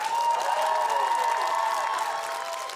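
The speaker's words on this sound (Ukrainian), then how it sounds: "Під ваші оплески Влад Бивалін!" Applause and cheering from a stand-up comedy audience as a comedian comes on stage, a dense, loud, sustained roar of clapping with music or a steady tone running beneath it.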